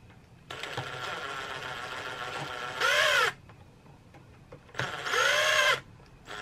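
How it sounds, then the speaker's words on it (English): Impact gun spins bolts in lightly on a Sur Ron Light Bee electric dirt bike during a chain kit installation, two short, loud whirring bursts over a steady background hum, each ending abruptly. "I'm going to use the impact gun to just screw them in"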